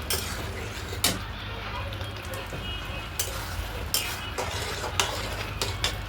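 Boiled potatoes fry in a pan, a soft steady sizzle broken by several sharp scrapes and clinks of a spatula stirring against the metal.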